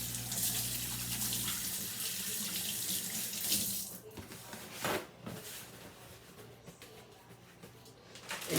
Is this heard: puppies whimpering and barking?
no